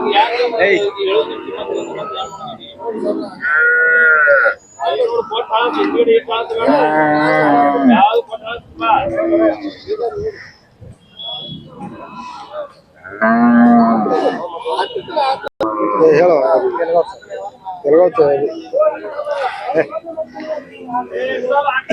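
Khillar cows moo repeatedly at a busy cattle market in Sangola, Maharashtra, several long drawn-out calls standing out loud and close amid the chatter of traders talking around them.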